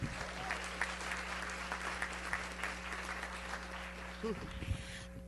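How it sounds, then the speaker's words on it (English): Applause from a school board work session audience greeting members of a high school softball team, steady clapping under a continuous hum for about five seconds, fading near the end. "let's give them all a big round of applause"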